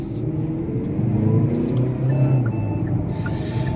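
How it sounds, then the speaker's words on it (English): Steady road traffic streams past a parked Hyundai Santa Cruz pickup, a continuous broadband vehicle rumble with engines swelling and fading, plus a few faint beeping tones over the flow. "There's just a lot of traffic coming through here."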